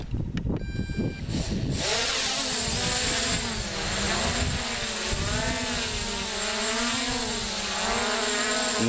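Brushless motors of an MJX Bugs 3 quadcopter drone in flight, a steady, smooth whirring drone with wavering pitch that holds continuously after a brief start, fairly close and without talk.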